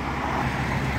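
Steady highway traffic in a downtown area rumbles and hisses continuously, a broad even wash of passing vehicles with no voices.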